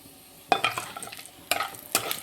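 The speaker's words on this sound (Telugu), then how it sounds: "ఆయిల్ హీట్ అయిన తర్వాత తాలింపు గింజలు, జీలకర్ర వేసుకోవాలి." Mustard and cumin seeds crackle and spit sharply in hot oil, in three quick bursts over a quiet background hiss.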